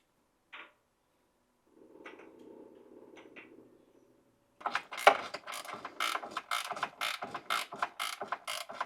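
Mechanical clicking and rattling around a Corvette C6 Z06 rear differential mount, with a few faint knocks first, then a close, steady series of ratchet-like clicks as the mount bolts are tightened.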